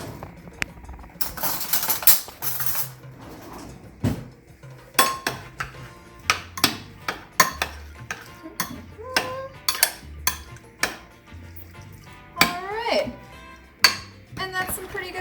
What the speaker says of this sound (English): And then I'm just going to mix it up with a spoon.